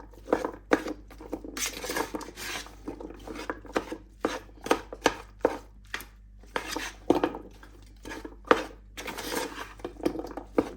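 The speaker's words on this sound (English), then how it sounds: "just grab your favourite spoon and break up your mince" A spoon scraping and breaking up mince in a pan, with repeated rhythmic scrapes and knocks against the pan at a close distance, no voices.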